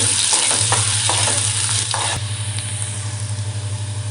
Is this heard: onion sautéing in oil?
yes